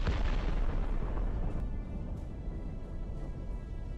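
A Russian tank hit by a Ukrainian FPV drone explodes in a loud, close blast, its deep rumbling roar rolling on and slowly fading over several seconds.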